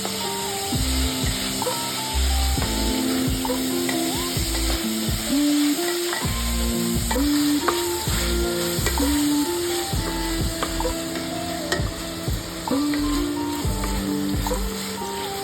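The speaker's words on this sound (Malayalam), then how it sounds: "ഞാൻ ഈ ചിക്കനിലേക്ക് പെപ്പർ ആൻഡ് സോൾട്ട് ഇട്ടിട്ടാണ് സോട്ടേ ചെയ്യാൻ പോകുന്നത്" Chicken seasoned with pepper and salt sizzles loudly in a pan on an induction stove, a constant fry hiss broken by repeated stirring scrapes and the steady electronic tones of the cooktop.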